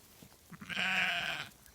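Yearling Ile-de-France ewes with their lambs graze cereal rye, and one sustained, fairly close bleat rises over quiet pasture, preceded by a couple of soft, brief calls.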